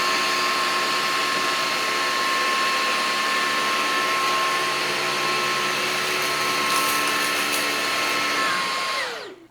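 A Levoit 200 cordless vacuum picks up sawdust and cereal, a loud, steady whining motor drone with a constant high tone that winds down abruptly at the end.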